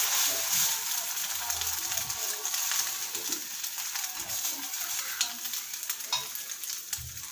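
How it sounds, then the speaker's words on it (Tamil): Omelette batter sizzles on a hot dosa griddle, a loud steady crackling hiss close by with occasional low thumps of handling throughout. "இப்போ தோசைக்கல் சூடாயிடுச்சு. இப்போ நான் ஆம்லேட் ஊற்றிக்கிறேன்."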